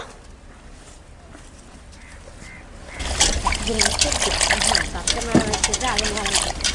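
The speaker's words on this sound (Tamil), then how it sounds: "தண்ணியில் கொட்டி சுத்தமாக அலாசி எடுத்துக்கலாம்" Butterfly pea flowers are rinsed by hand in water. Quiet at first, then loud sloshing and splashing start about halfway through and continue while a person talks.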